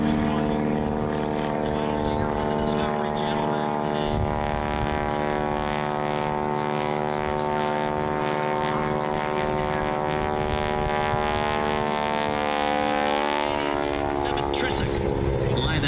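Stearman biplane engine droning steadily and loudly throughout a wing-walking and aerobatic air show routine, its propeller tone rising and shifting slightly as the aircraft maneuvers up and over, with crowd and announcer sound mixed underneath.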